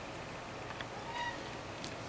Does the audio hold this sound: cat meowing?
yes